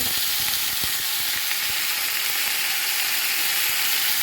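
Spices frying with salt and turmeric in hot oil, a steady close sizzle with a constant bright hiss and a few faint clinks of stirring, no voices.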